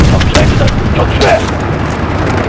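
Missile launch in Call of Duty: Modern Warfare (2019): a loud close burst of booming, rumbling blasts with sharp pops, the roar sustaining and slowly fading over a couple of seconds.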